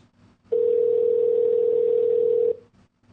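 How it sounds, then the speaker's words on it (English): A steady telephone dial tone sounds alone for about two seconds while someone is calling, loud and unbroken, with a quiet room before and after. "pick up the phone."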